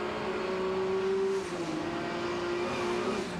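Nissan GT-R race car, Mark Skaife's, driving down the home straight at Lakeside during a 1991 touring car championship round, heard from an onboard camera mounted on top: a loud, steady engine drone with a sustained pitch that shifts slightly partway through.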